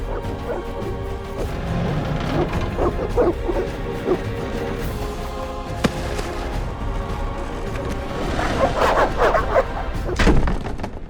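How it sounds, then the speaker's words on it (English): Dogs barking and snarling during a beast attack at a gate in The Witcher video game, with crashes and game effects in a busy mix, the barks growing louder toward the end. "The dogs will tear her apart."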